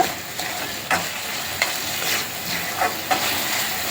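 Shark skin and head frying in a pan while being stirred, a steady close sizzle broken by a few sharp scraping strokes of the spoon.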